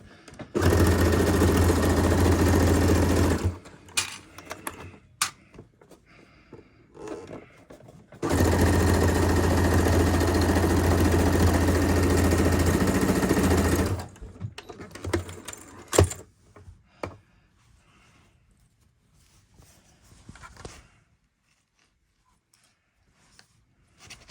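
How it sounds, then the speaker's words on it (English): Two long, steady bursts of a sewing machine running a straight stitch on a McCall's 8505 garment, close and loud, separated and followed by quieter handling clicks and taps. "I am going to just do a straight stitch."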